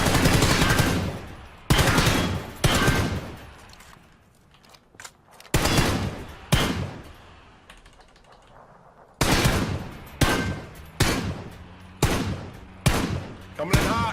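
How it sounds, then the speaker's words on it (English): Bursts of anti-aircraft gunfire in a video game shoot down planes, with loud repeated volleys separated by short pauses and a quieter stretch in the middle. "what other thing we could do is shoot them down so they're all on fire"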